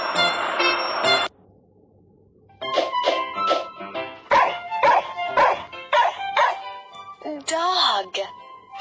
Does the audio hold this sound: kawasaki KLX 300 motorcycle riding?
no